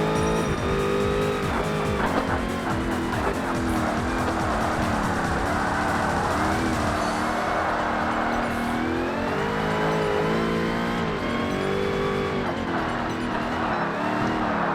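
Race cars, including a Lingenfelter Corvette, lap Laguna Seca in Forza Motorsport (2005), their engines droning and shifting through gears continuously with occasional tire squeal, under a layer of game music.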